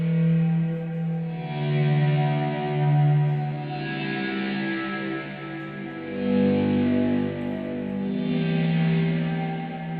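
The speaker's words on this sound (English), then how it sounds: "now we're just volume swelling it in with all that reverb" Electric guitar notes fade in slowly through heavy reverb and effects, forming a sustained, washing pad of layered tones that swells and ebbs over several seconds with no talking.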